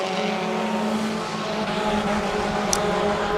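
Race cars running on the dirt oval at Ohsweken Speedway make a steady, loud, unbroken engine roar as the pack moves past, with no voices heard.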